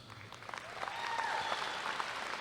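A graduation ceremony audience applauds, a soft, distant patter of clapping that swells slightly and continues, with a few faint whoops.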